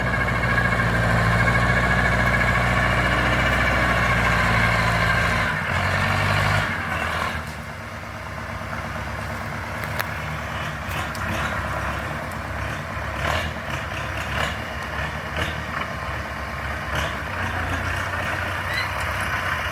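A YUMZ tractor runs while ploughing wet, muddy ground with a PLN plough, its engine loud and steady at first, then dropping to a lower, rougher rumble with scattered knocks.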